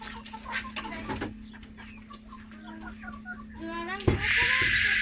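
Brooding hens cluck and murmur in a series of short calls over a constant electrical hum, ending with a louder burst of noise.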